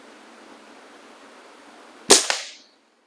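A single sharp report from an Air Venturi Omnistorm .22 caliber air rifle, with a second quick impact right after it, over a quiet background.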